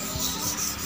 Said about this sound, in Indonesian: terus diamplas-amplas terus